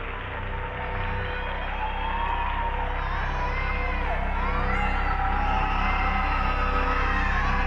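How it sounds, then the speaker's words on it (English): Applause and crowd cheering blended with children screaming and crying in a Poppy Playtime teaser, a dense, loud, sustained wall of shrieks and clapping with wavering cries over a low steady drone. "This is then met with applause, which is also very creepily cut in with the sounds of children screaming and crying"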